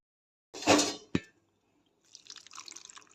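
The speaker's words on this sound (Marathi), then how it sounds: "ही भेंडी आता दोन वेळा स्वच्छ धुवून घेते" Fresh okra rinsed by hand in a bowl of water gives a short splashy swish and a single clink, then a pause before soft, close trickling and dripping water.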